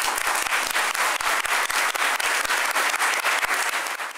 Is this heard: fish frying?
no